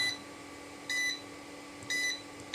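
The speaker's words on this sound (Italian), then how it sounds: "è partito il cicalino" A piezo buzzer on a DIY power supply board sounds at overvoltage, about 29 volts, giving two short high-pitched beeps about a second apart over a steady electrical hum.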